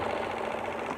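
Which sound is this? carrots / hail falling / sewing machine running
sewing machine running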